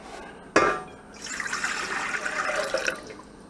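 A brief clink is followed by tepid water pouring steadily into a bowl for a couple of seconds while making pizza dough, close and clear, with no talking.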